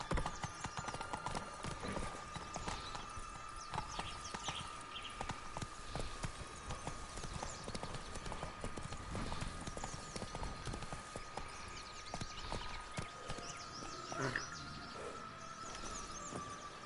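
Horse hooves clip-clop steadily at a trotting pace in The Witcher video game, continuous and fairly close, with an occasional faint whinny and light outdoor ambience underneath.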